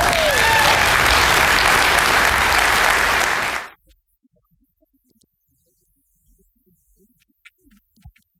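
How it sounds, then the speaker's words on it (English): Audience applause at a trucking industry conference in Canada, honoring newly graduated students: a loud, dense burst of clapping lasting about three and a half seconds, then cutting off abruptly into near silence with faint scattered noises. "they also deserve a round of applause because yesterday morning they just graduated."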